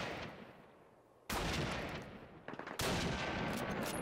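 Bursts of gunfire in the video game Call of Duty, loud broadband blasts with a sustained volley, a short pause, then another heavy barrage continuing to the end.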